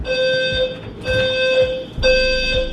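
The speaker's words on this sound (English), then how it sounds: "the alarm just went off" An indoor smoke or fire alarm sounds in a home, a loud piercing electronic tone beeping in regular bursts about once a second, close and continuous.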